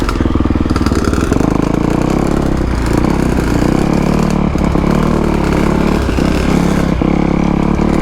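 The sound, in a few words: two-stroke dirt bike engine revving on trail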